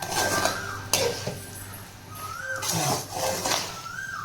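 Metal spoon scraping and knocking in a hot pan as leftover cold rice is stirred, repeated clanks and scrapes with a faint sizzling hiss behind them, close by.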